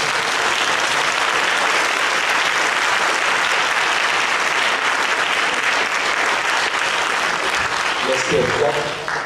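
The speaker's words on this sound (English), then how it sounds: "I think they deserve a big round of applause." A seated audience at an academic Q&A panel on religion, gender and sexuality gives a big round of applause for the guest speakers: dense, steady clapping that stays loud for about nine seconds and tapers slightly at the end.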